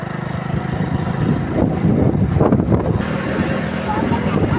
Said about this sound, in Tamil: வண்டியில் போகும்போது காற்றடிக்குது, பீச்சுக்கு முன்னாடி போகும்போதே காற்றடிக்குதுங்க